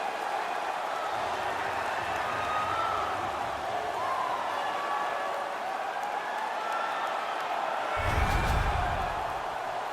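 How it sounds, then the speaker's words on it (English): A virtual arena crowd roars after a goal in the NHL 19 hockey video game, a steady wash of cheering and applause behind faint commentary, with a heavy low thump swelling near the end. "The crowd is cranked."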